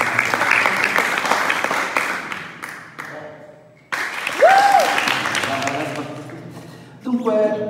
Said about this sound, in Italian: Grazie per l'applauso spontaneo